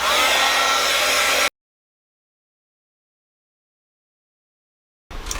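An electric hair dryer blowing on mixed media artwork on cardboard, a loud steady whooshing whir for about a second and a half, then cut off, resuming briefly near the end.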